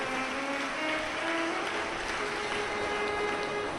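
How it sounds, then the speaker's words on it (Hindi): Audience applause at a Shiv Mahapuran katha, a dense, steady wash of clapping from a large crowd, held evenly throughout. "एक बार पूरी प्रशासन के लिए जोरदार ताली बजाकर साधु"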